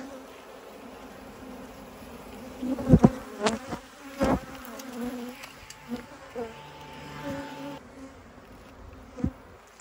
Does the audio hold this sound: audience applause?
no